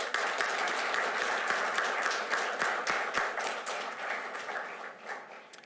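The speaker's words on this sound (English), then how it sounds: "let's give her a big round of applause" An audience applauds an Operator of the Year award recipient at a TriMet board meeting, a steady wash of clapping with sharp individual claps, moderately distant, fading slightly toward the end.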